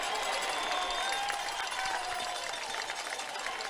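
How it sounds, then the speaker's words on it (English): Loud, steady roar of a high school football crowd at White Field during a playoff game between Bishop Hartley and Sheridan, a dense wash of cheering and noise with no pauses. "crowd's on the feet. It is loud here at White Field"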